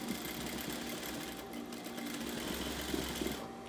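A sewing machine stitches fabric for a cloth bunny toy, a fast, steady mechanical whir with rapid needle clatter, close and continuous, with no talking.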